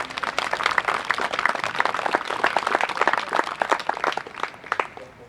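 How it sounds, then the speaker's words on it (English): Outdoor crowd applause at a First World War living history display, honouring a machine gunner; dense, steady clapping from many hands that carries on for several seconds and tapers slightly at the end. "that deserves a round of applause for our gunner"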